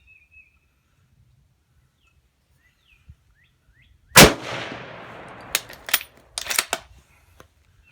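A single loud, sharp gunshot from an Israeli FN Mauser 98k rifle cracks out after near silence, followed by a decaying echo and several clacking bolt-action clicks.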